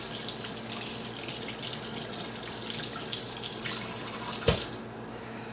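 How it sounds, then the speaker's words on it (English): A kitchen tap runs steadily as a garlic jar is held under hot water, a soft continuous hiss with a brief knock near the end. "Oh, I gotta run it under hot water."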